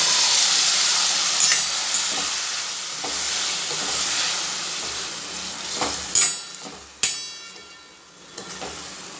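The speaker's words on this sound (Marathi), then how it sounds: "या सगळ्यांना एकजीव करायचं आहे आणि आपण जे वाफून घेतलेल्या कैऱ्या आहेत ते याच्यात टाकून घ्यायचे" Steamed raw mango pieces are stirred in a frying pan and hiss steadily with a loud sizzle, and a few sharp spatula knocks and scrapes stand out near the end.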